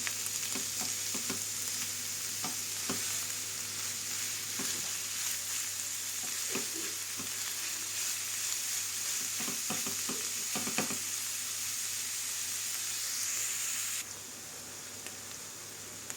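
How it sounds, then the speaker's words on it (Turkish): Onions sizzle and hiss steadily in a hot pan, with occasional clicks of stirring, continuous and fairly close. "Soğanımızı da biraz kavuralım."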